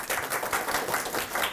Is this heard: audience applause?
yes